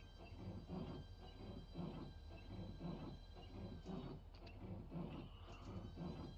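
A train driven slowly at about 15 miles per hour in the game Train Simulator Classic, giving a steady, low continuous rumble with rhythmic wheel clatter and faint high tonal whines throughout.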